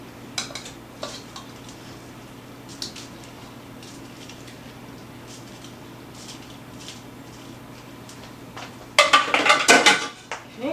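Metal spoon scraping and clinking in a pot of thick, cheesy seafood mac and cheese, faint soft stirring at first, then a loud burst of clattering and scraping near the end.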